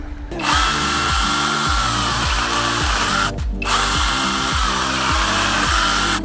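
An AVANT mini cordless saw cuts steadily and loudly, its motor whining under a rapid rhythmic chatter, with one brief pause partway through before cutting resumes.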